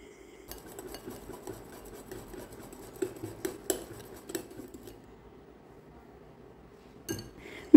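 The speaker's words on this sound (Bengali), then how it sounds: "এখন তেলটাকেও এই মিশ্রণের সাথে খুব ভালো করে এইভাবে মিশিয়ে নেব।" Half a cup of refined oil is worked into a salted batter mixture in a bowl, with scattered utensil clinks and soft scraping strokes, fairly quiet and close.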